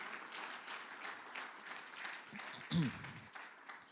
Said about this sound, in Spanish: Alguien le da un aplauso al Señor por esa palabra.